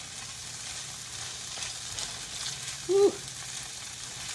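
Gnocchi browning in a pan alongside chicken, giving a soft, steady sizzle while being stirred, quiet and close under a brief voiced exclamation.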